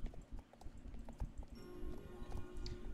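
Hooves of a trained horse in a video game clip-clop in a quick, even rhythm, soft and fairly faint, with no voices.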